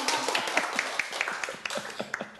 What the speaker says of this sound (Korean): 박수 한번 쳐주세요. 박수.